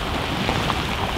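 Heavy rain hisses steadily and loudly during a thunderstorm at a bream fishing competition, with a dense, even wash of noise and no voices.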